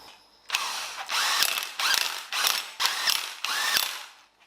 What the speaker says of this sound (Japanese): フライホイール戻します。